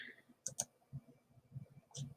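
Mouse clicks on a computer while navigating process history trend software, several short sharp clicks spaced across the moment, close and fairly quiet, with a voice speaking softly in between.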